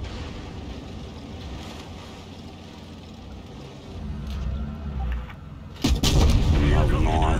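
A heavy tank cannon blast in World of Tanks Blitz, fired by a Grille 15 tank destroyer. Low engine rumble and battle ambience build up to one loud, sharp boom near the end, leaving a long rolling roar.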